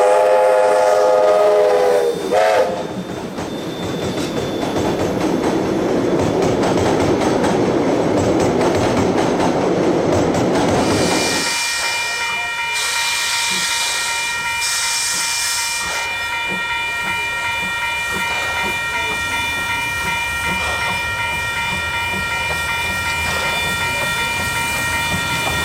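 Heritage steam locomotive 608 running on a New Zealand line toward Vernon, with a loud whistle blast at the start, then a steady hissing chuff and rumble of the train, followed by a long sustained multi-tone whistle.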